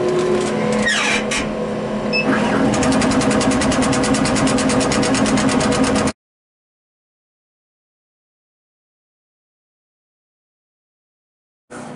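A laser engraver running a job on four cutting boards gives a steady, loud mechanical whir with rapid rhythmic pulsing for about six seconds. Then it cuts to silence, and a brief burst returns at the very end.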